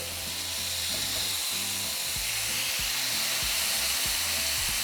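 Chicken and steak sear in a hot skillet on medium-high heat, giving a steady, loud sizzle and hiss throughout, with soft low thumps of the meat and no talking.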